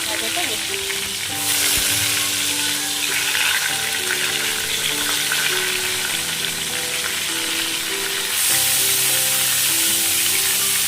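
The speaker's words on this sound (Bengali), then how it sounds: "পটল ভাজাটা বসিয়ে দিচ্ছি" Pointed gourd (potol) slices frying in oil in a pan, producing a loud, continuous close-up sizzle and crackle with occasional stirring sounds beneath faint background music.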